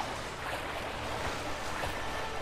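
Sloshing water as an army wades through a river in Mount and Blade Warband, a continuous rushing splash with soft irregular surges.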